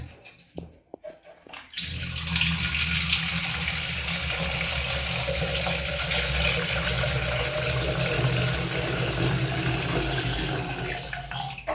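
A tap runs steadily into a small cooking pot, a continuous rushing water stream after a brief quieter start, close and fairly soft with no talk.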